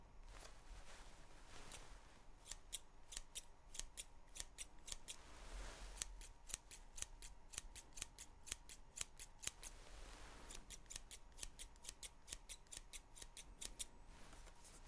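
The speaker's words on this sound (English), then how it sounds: "I use my trusty scissors" Metal scissors snip paper again and again in a crisp, close, quiet run of rapid clicks, briefly pausing twice before the cutting resumes, with no voice over them.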